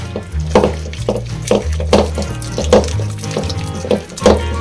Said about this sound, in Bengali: অল্প অল্প জল দিয়ে প্রথমে এটাকে ব্যাটার বানিয়ে নেব